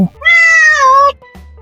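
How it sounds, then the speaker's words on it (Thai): A cat at the Houtong cat village station on the Pingxi railway line lets out one loud, close, drawn-out meow, followed by a brief fainter sound, with no talk. "ไฮไลท์ของที่นี่ก็คือ แมว แมว แมว และก็แมว"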